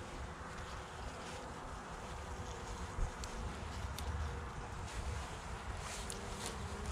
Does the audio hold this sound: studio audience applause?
no